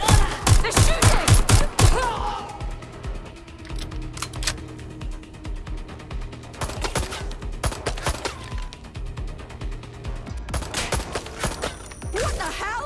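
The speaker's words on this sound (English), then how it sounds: "They're shooting!" Gunfire in the video game Watch Dogs Legion opens with a loud, rapid burst of shots, then keeps up scattered volleys and single shots over busy combat noise, with brief voices in the mix.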